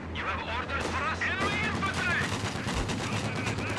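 Machine-gun fire and artillery from a World War II battle in Company of Heroes 2, with dense bursts of gunfire and booming explosions going on nonstop while someone talks over the din.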